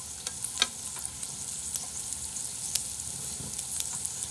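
Pork belly sizzles steadily as it grills at home, a soft continuous crackle dotted with faint pops and spits, heard alone without voices.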